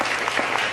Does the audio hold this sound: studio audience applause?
yes